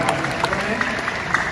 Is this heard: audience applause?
yes